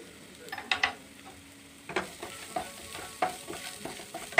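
Spices with turmeric and garam masala fry in a pan for paneer tikka masala, stirred with a utensil: irregular scraping knocks and clicks over a low sizzle, close and moderately loud.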